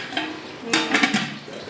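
A plate being scrubbed clean, short close scraping and rubbing strokes with light clinks of dishware in a quiet room.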